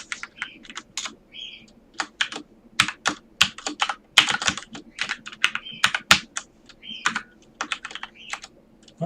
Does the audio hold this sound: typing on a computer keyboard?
yes